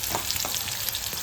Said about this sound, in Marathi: कांदा कसा उकळते